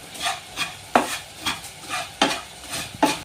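A spoon stirs chilli powder and coriander powder roasting dry in a hot pan, making a close, rhythmic series of scraping strokes about every half second over a faint sizzle, with no talking.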